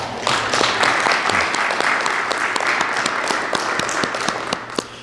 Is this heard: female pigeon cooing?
no